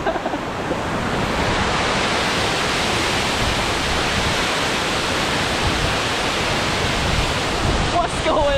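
Salt Creek Falls in winter roars as a constant, loud broadband rush of falling water, with only a brief hint of voices near the end.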